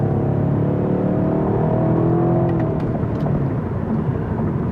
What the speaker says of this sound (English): let's give it a little bit of gas and just see how it goes